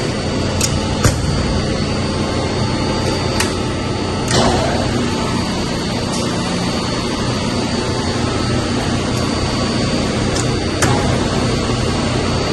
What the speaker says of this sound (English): We got a pump.